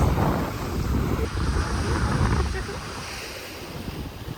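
Waves wash onto a secluded beach on Crete, a broad continuous surf roar mixed with wind buffeting the microphone, steady and moderately loud throughout.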